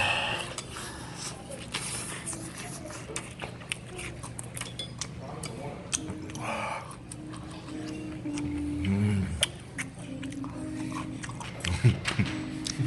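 Someone eats Japanese pork cutlet at a Japanese restaurant during a solo mukbang, with soft close-up chewing, biting and crunching and occasional utensil clicks, mixed with quiet humming sounds from the eater.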